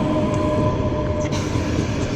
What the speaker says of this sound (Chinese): 和谐号的老车头啊，拉着一个绿皮火车